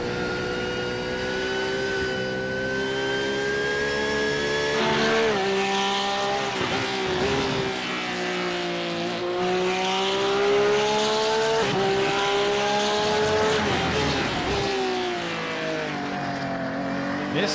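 Mid-engine Porsche race car in a racing game at Circuit of the Americas, its loud engine note rising and falling steadily through shifts and corners, with brief tire squeal, alone with no talk.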